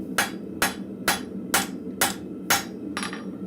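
A hammer strikes a steel chisel on an anvil in a blacksmith forge, seven sharp metallic blows landing at a steady, even pace, close and ringing over a low background hum.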